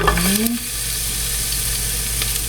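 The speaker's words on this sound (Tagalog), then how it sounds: "Magluluto lang tayo nitong ginisang giniling. Igisa lang natin." Ground meat sautéing in a pan for ginisang giniling gives a steady, close sizzle that runs throughout, with a brief tonal sound near the start.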